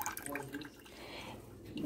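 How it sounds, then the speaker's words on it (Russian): Water poured from a jar into a saucepan while making pickled cucumbers, heard as soft, uneven splashing and trickling, fairly faint, with no speech. "Значит, второй раз эту воду сливаем в сотейник."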